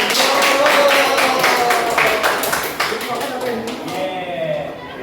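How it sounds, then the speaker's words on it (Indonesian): A classroom of students breaks into applause for classmates after their presentation, a steady spell of clapping that fades out near the end, with voices talking over it. "Berikan aplaus kepada teman-teman."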